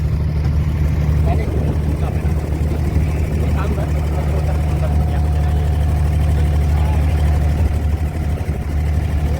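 A Dubai abra water-taxi's engine runs with a steady, loud, low droning rumble that holds constant throughout, close by.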